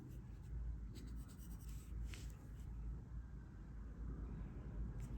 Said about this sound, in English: using my HB pencil for drawing